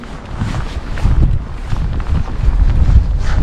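Strong wind buffets the microphone outdoors on a rainy day with wet streets, a loud, rumbling, gusting roar that swells and surges continuously throughout.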